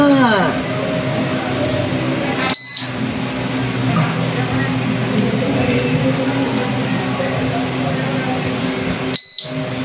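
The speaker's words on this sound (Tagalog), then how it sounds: "Press the key, barrel down, you will hear beep sound." A disc lock's alarm gives two short, sharp electronic beeps several seconds apart, close by, over a steady background of room noise and rustling.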